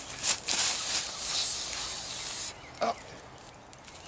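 Parking brake being released on an old abandoned fire truck in a junkyard, giving a loud, steady burst of hissing air for about two seconds, then quiet with a couple of faint knocks.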